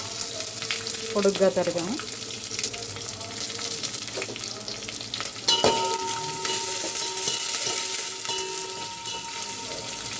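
Onions and green chillies frying in a pan for a home-made chicken biryani, a steady sizzle with occasional stirring clatter, with a person speaking briefly over it.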